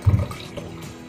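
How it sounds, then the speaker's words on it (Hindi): A glass of water poured into a raw green mango sherbet mix, a short splash at the start that fades into faint liquid sounds, close by with no talk. "अब देखिए इसमें हम डालेंगे 1 गिलास पानी।"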